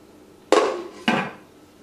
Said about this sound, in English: and cover the pan.